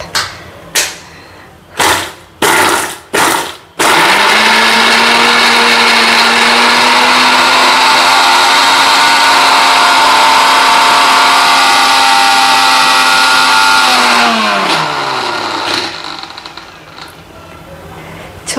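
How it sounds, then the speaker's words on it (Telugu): A kitchen mixer grinder grinds cooled spices for a stuffed brinjal masala. After a few short loud pulses, it runs in one long, very loud whirring burst that rises in pitch, then winds down. "చల్లగా అయిపోయిన తర్వాత మిక్సీ పట్టుకోండి"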